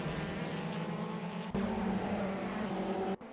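Race cars, BMWs among them, launching off the starting line in a sim racing game at Oulton Park, engines roaring loud and steady, with a sharp jump in revs midway and an abrupt drop at the end.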